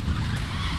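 A VW Beetle Kahakai Edition's tires briefly skid under hard braking in The Crew 2: a short, rough scrubbing burst over low engine rumble, with no voices.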